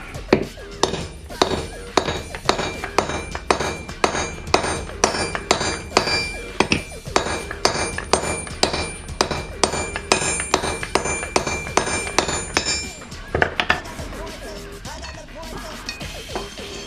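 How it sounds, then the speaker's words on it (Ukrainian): A heat-treated, tempered blade is struck with a hammer to chop through a nail resting on a rail: a steady run of loud, sharp metallic blows roughly twice a second for about thirteen seconds, then they stop. "Беремо цвяшок і рубаємо на рельсі."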